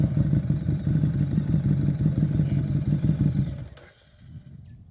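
A motorcycle engine idles with a rough, chugging clatter while the bike is parked up, then cuts out and leaves a quiet tail.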